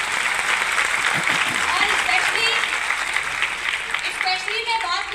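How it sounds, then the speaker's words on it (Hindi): An audience applauds Vestige management at an event, steady dense clapping throughout at a loud level, with a voice speaking briefly over it. "इसलिए एक बार वेस्टीज मैनेजमेंट के लिए जोरदार तालियां"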